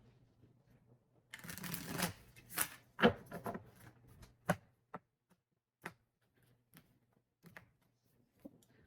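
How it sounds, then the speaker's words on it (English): Tarot cards are shuffled in a quick riffle, followed by scattered soft taps and clicks as the deck is squared and handled, quiet and close. "let's get one more shuffle here."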